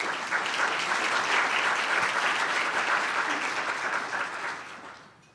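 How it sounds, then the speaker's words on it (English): Audience applause for sponsors at a State of the City event: a full room clapping steadily and loudly, then fading out near the end, with no talk over it. "Please give a round of applause for all of our sponsors."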